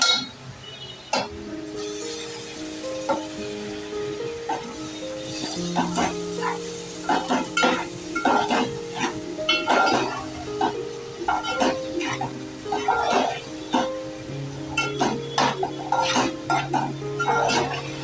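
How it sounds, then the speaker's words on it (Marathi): Prawns are stirred and fried in a pot, with a steady sizzle under repeated metallic clinks and scrapes of a utensil against the pan, while a musical backing plays throughout. "आता हे मिक्स करूया आता त्यात जाईल कोळंबी"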